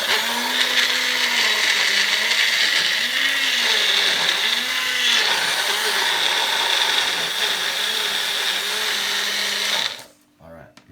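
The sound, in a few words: small blender blending ingredients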